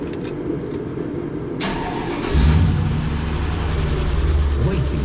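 A 400,000-mile Mercedes-Benz engine, just repaired for a vacuum leak, cranks and fires up after a quiet stretch, then settles into a steady, loud idle rumble close by.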